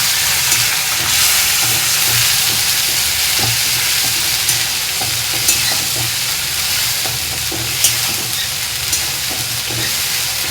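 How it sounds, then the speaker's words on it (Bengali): Fried onions in a pan hiss loudly as ginger garlic paste goes in, a dense, continuous sizzle with occasional small pops and stirring clicks throughout. "পেঁয়াজটা দেখো আমার লাল লাল করে ভাজা হয়ে গেছে, আমি ওর মধ্যে আদা রসুনটা দিয়ে দেবো।"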